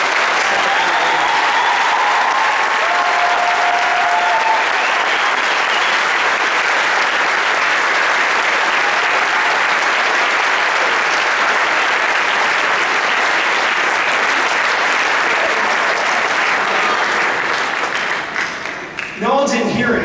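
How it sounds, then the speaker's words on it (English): Loud, dense crowd applause at a stadium marching band review, sustained steadily throughout, with cheering voices mixed in and a brief dip in intensity near the end. "Could we have a round of applause for all?"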